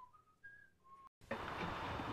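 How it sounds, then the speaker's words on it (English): A person whistles a few clear, sustained notes of a tune, close and alone, before the sound cuts abruptly to a loud, noisy wash of ambience. "She whistled these notes"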